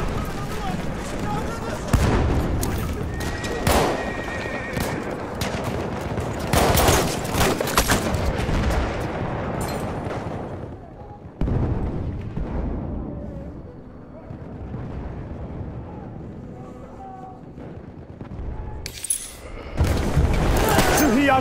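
Video game battle noise with repeated loud blasts and rattling bursts of gunfire, some close and heavy, others more distant, broken by quieter stretches.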